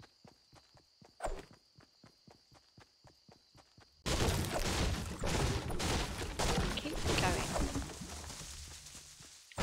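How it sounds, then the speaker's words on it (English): In a Fortnite Battle Royale match, evenly paced footsteps tap along, then a loud, dense barrage of gunfire and impacts bursts in and keeps going, filling the rest of the moment. "I'm just gonna start shooting and I just end up shooting everything."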